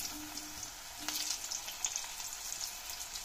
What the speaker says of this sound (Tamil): இப்போ எண்ணெய் நல்லா கொதிக்குது